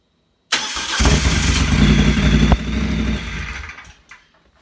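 A Moto Guzzi Cafe Bruiser motorcycle engine is started with its electric starter, firing abruptly into a loud, close, throbbing idle that holds for a few seconds before dying away and fading out.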